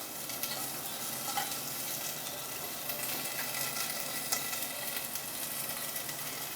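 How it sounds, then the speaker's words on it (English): A spatula scrapes and stirs tomatoes in a pot, soft repeated scraping over a continuous sizzle, close and fairly quiet, with no voices. "Take your spatula or your spoon and just stir that."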